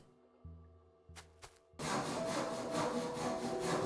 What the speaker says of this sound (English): You hear that sound effect? They're sawing the wood down.